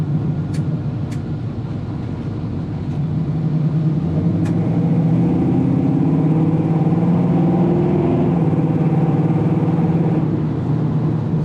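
A 1966 Chevrolet Nova with a 383 V8 engine runs with a loud, steady low rumble, rising slightly as it pulls along on a test drive, close up and continuous throughout.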